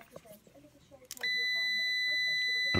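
A multifunction meter set to continuity test gives a single sustained high-pitched electronic beep that starts abruptly and holds steadily to the end, after faint background noise.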